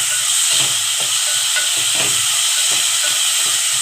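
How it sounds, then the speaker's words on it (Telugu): Finely chopped onions with a little salt fry in hot oil, giving a loud, steady, close hiss and sizzle that holds evenly the whole time, with no talking. "2 ఉల్లిపాయలు సన్నగా తరిగి పెట్టి వేస్తున్నాను"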